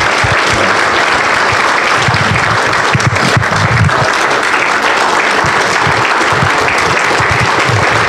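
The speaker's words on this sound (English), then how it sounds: "Give him a hand." Congregation at a church sermon applauding loudly and steadily, a dense wash of clapping with some cheering mixed in that carries through the whole stretch.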